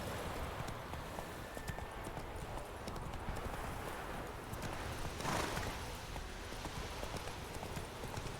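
Steady clip-clop of the horse Roach's hooves on a road in the video game Witcher 3, an even galloping rhythm running throughout at moderate level with a brief snort or whinny midway.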